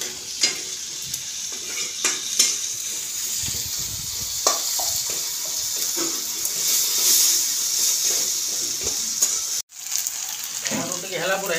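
Onion and tomato sizzle and fry in a pan for a fish curry, a loud continuous hiss with stirring scrapes and clicks throughout and a brief break near the end.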